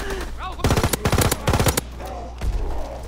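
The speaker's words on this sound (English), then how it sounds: "Oh shit, shotgun!" Shotgun fire in a video game rings out as several close, loud bursts of sharp blasts, then a final shot after a short pause, with a voice briefly audible between them.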